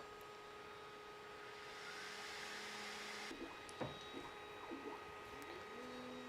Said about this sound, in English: This is a first boot up of the printer. It's doing the self-check.